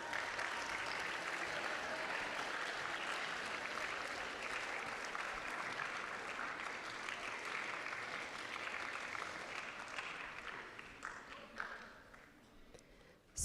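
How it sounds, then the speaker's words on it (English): School auditorium audience applauding eighth-grade honor roll students, a steady, full round of clapping that holds for several seconds before thinning and tapering off. "Please give them a round of applause."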